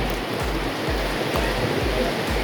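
River water flowing steadily near a cave during a flood overflow, a continuous broadband rush with rhythmic low surging pulses, loud and close, with no voices.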